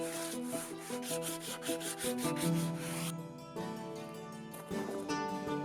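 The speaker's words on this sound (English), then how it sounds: "Then I brush it gently with some sandpaper." Sandpaper is brushed over a burnt, blackened wooden bench top in quick, even rubbing strokes, a dry scratchy rasp heard up close over steady tonal background music.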